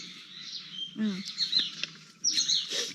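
A black francolin calls outdoors with harsh, scratchy chirping phrases, repeated a few times, moderately near, over a low background rumble.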